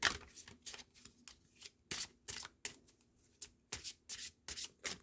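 Oracle cards are shuffled by hand in a steady run of quick papery riffles and rubs, about a dozen close, crisp bursts with short pauses between them and no talking.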